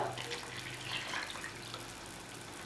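Steady water pouring into a bowl of arrowroot powder, a continuous trickling and gurgling wash at moderate volume.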